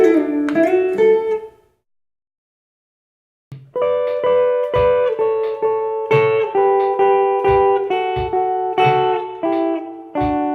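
Guitar playing the solo section of a song: a short opening phrase, a pause of about two seconds, then a steady run of plucked notes, close and clear with no talking.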